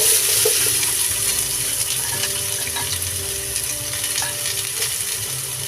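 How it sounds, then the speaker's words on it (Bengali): Chopped onions fry in hot ghee with a steady, dense sizzle that runs the whole time, close and fairly loud, broken by soft scrapes of stirring. "পেঁয়াজ কুচি কিছুক্ষণ নাড়াচাড়া করে ভেজে নিতে হবে।"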